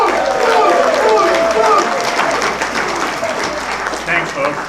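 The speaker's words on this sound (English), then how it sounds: "Let's give a big round of applause for Moose Caboose." Comedy club audience applauding and cheering as guest Moose Caboose, a former NFL and CFL player, is welcomed to the stage; steady, dense clapping with crowd noise that tapers slightly toward the end.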